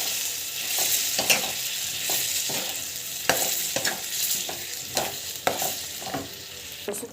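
Mashed spinach sautéing in a pan, stirred with repeated scraping strokes over a steady close sizzle, with no voices.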